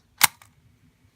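A Panasonic camcorder's tape mechanism gives one sharp mechanical clunk, followed by a fainter click, close up in an otherwise quiet room.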